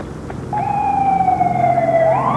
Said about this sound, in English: Next thing you know, I hear sirens.